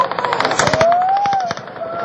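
Rapid automatic gunfire during the Las Vegas mass shooting from Mandalay Bay, a fast rattling burst of shots echoing at a distance over a crowd, with a rising siren-like tone and shouting mixed in.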